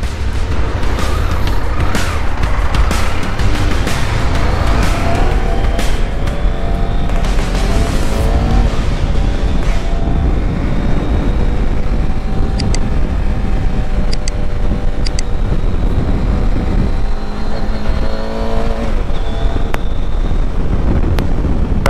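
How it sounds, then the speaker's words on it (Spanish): A CFMOTO 800MT Touring motorcycle accelerating hard on the road, its engine note climbing through rising tones under heavy, constant wind rush at the microphone. "vamos a darle un arranconcito para allá, para probar qué tal su velocidad"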